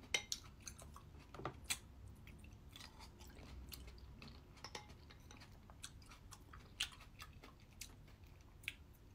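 Crisp, wet crunching from chewing sweet, crispy grapes in a homemade diet dessert, close up, in irregular bursts of bites with small clicks between them and no talking.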